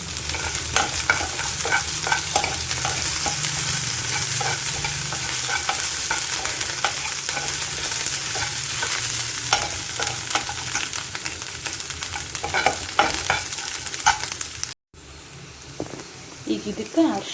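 Green chili paste stirred into onions frying in a pan, a steady sizzle with scraping spatula strokes throughout and a short break near the end.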